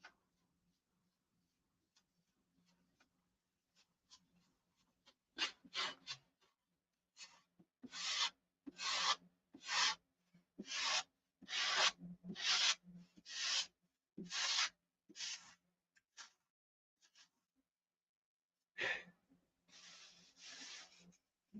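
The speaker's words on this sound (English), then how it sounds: "People don't quite understand that the paint job is in the sanding." A boat hull's bottom skin being sanded by hand: a rapid series of close, rasping strokes in an even rhythm, with quieter scattered scrapes before and a brief pause before more strokes.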